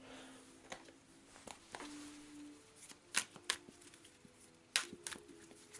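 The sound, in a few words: shuffling cards for the board game A Touch of Evil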